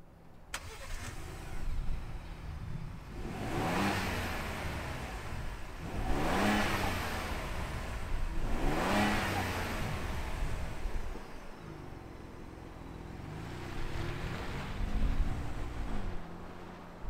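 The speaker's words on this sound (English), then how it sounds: "let's fire up this Bronco and hear what it sounds like" A 2022 Ford Bronco Wildtrak engine cranks and catches, then settles into idle between several strong revving blips that rise and fall, heard from nearby.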